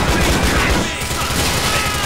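Rapid, dense fire from an automatic shotgun in GTA IV: The Lost and the Damned bursts loudly for about a second, then gives way to a noisy rumbling tail.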